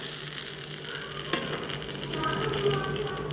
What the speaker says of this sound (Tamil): வானலில் ரெண்டு ஸ்பூன் எண்ணெய் விட்டுக்கிட்டு அப்புறம் கடுகு ரெண்டு காஞ்ச மிளகா கருவேப்பிலை இதெல்லாம் போட்டு தாளிப்புக்கு எடுத்துக்கலாம்